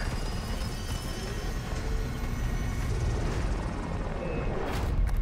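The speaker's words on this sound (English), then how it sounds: "They had a chopper and everything." Helicopter rotor and engine drone in the Call of Duty Warzone video game, a steady, moderately loud whirring wash that holds throughout without voices.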